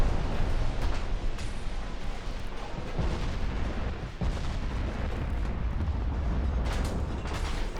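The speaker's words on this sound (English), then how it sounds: "Another torpedo hit on the bow" A torpedo strikes a warship's bow during a naval battle in Ultimate Admiral: Dreadnoughts, heard as a dense, continuous roar of booming explosions and rumbling battle noise with a brief dip midway.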